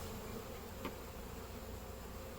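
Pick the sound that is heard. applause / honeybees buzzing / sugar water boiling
honeybees buzzing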